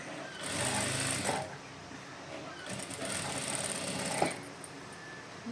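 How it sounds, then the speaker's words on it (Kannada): A sewing machine runs in two bursts while double-stitching a blouse sleeve at the shoulder, giving a steady mechanical whir. A short pause separates the bursts, and the motor drone holds at moderate loudness throughout. "ಸ್ಲೀವಿಗೆ ಭುಜಕ್ಕೆಲ್ಲ ಡಬಲ್ ಸ್ಟಿಚ್ ಮಾಡ್ಕೊಬೇಕಾಗುತ್ತೆ."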